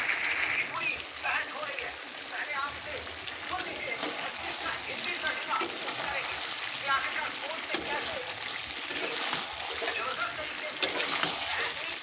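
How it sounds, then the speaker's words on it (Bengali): Cauliflower curry masala sautéing in a pan: a steady, close sizzle broken by scraping stirs, with a muffled voice in the background. "এখনো কষা হয়নি ভালো ভাই, এখনো 5 মিনিট কষবো, তারপরে জল দেবো।"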